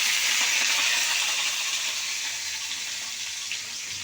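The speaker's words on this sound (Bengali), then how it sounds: "বরবটি ভাজি করব।" Long beans (borboti) fry in a pan with a steady, dense sizzle that stays loud and even throughout, easing slightly toward the end, with no voices.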